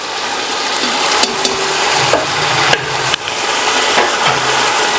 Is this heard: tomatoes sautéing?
yes